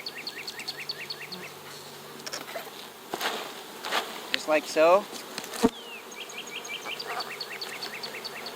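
A swarm of bees buzzes continuously, with rattling and bumping as a box of bees is shaken midway to move them into a new nuc hive; a person briefly speaks.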